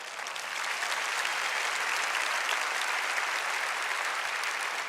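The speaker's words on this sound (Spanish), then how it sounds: "Dale fuerte ese aplauso a él." Sustained applause from a church congregation during a sermon, a dense, steady roar of clapping that swells in after the first half second and holds loud and even throughout, with no talk over it.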